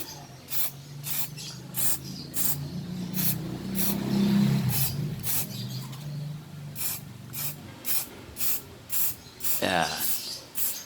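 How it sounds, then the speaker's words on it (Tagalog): Spray paint hisses onto an old chessboard in short repeated bursts, roughly a dozen spurts spaced about a second apart, close and fairly loud, with a person talking underneath. "Pag nag-spray ka, kailangan ano lang, medyo malayo."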